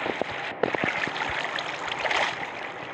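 Flowing water in Minecraft, a steady, fairly loud rushing wash that runs throughout with a few soft clicks and knocks on top.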